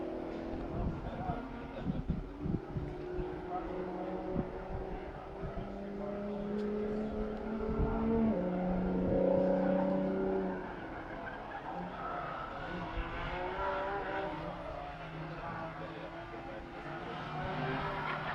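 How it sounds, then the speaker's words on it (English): Race car exhausts echo down the front stretch at NOLA as cars put the power down, a distant, reverberant engine drone rising and falling over about eighteen seconds under a commentator's voice. "you may hear some reverb of the exhaust notes as they put the power down, headed out the front stretch"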